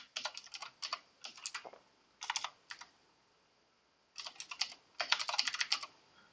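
Quiet bursts of typing on a computer keyboard, with rapid clusters of key clicks separated by short pauses, close and alone.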